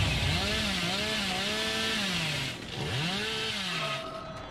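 The Hillbilly's chainsaw in Dead by Daylight revving loudly, its pitch rising and falling in sweeping waves, briefly dipping before revving up again.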